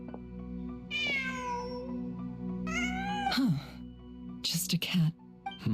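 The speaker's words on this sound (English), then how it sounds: "Just a cat." A cat in the Genshin Impact video game gives several close, clear meows, drawn-out and rising, spaced over a few seconds with quiet background hum between them.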